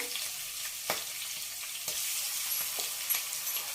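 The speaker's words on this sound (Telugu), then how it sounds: "పచ్చివాసన పోయిందాక వేయించుకుందాం" Ginger-garlic paste fries in hot oil in a pan with a steady close sizzle, broken by a few sharp crackles and stirring scrapes, and no voices.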